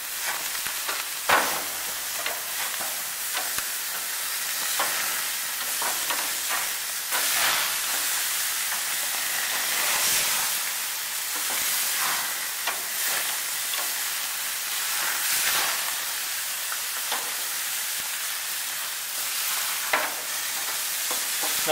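Thick steaks, over an inch thick, sizzle steadily on an outdoor grill, a continuous bright hiss with occasional pops and crackles and no talk.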